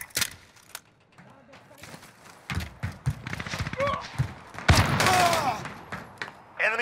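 Enemy gunfire in a video game crackles in irregular bursts of sharp shots, growing denser toward the middle, with someone talking intermittently over the shooting.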